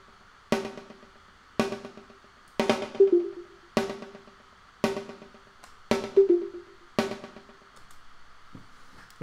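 Repeated sharp percussive hits, roughly one per second, each trailing into a long reverberant tail, with a sustained tone underneath.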